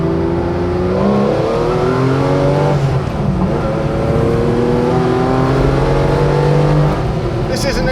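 Tuthill Porsche 911K engine under way, a loud steady drone with rising and falling pitch as the car pulls through gears, filling the whole stretch with constant mechanical roar.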